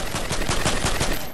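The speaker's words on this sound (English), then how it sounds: "Somebody else is shooting." Rapid automatic gunfire in Fortnite, a dense burst of evenly spaced shots rattling continuously for over a second at moderate distance, with no voices over it.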